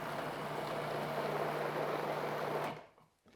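A food processor purees a French lemon tart filling in a steady, loud whirring drone that runs unbroken for a few seconds and then cuts off.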